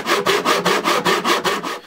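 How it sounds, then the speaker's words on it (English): A hand saw making cross cuts in a piece of wood for a bench hook, with about ten steady, evenly spaced back-and-forth rasping strokes, close and loud with no talk. "we're going to make a series of cross cuts ready to be chiseled out"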